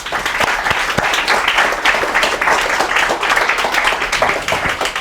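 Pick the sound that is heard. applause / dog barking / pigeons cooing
applause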